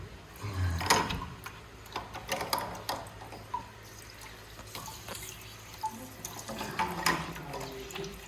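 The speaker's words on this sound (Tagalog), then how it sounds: "Para madrain na muna na konti yung tubig nasa loob" Water draining from the opened membrane housing of an RO water filter during a membrane replacement, a close trickle and splash with intermittent drips and small clicks of handling, no talk.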